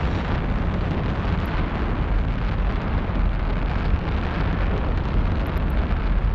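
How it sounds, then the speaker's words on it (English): Fireworks in the Eve Online game, a dense continuous roar of bursts and crackle filling the whole clip with no pauses, loud and close, with a few faint high pops standing out. "There's so many fireworks."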